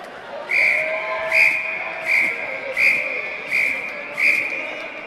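A whistle signals the fall-back phase of an earthquake drill: six short, shrill blasts in a steady repeating rhythm, loud and close over a quiet murmuring background.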